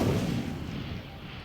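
Incendio fire spell cast in Hogwarts Legacy, a heavy low whooshing burst of flame that booms at onset and then trails off into a rumbling decay, with no other sound.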